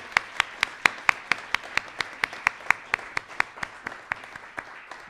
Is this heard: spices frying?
no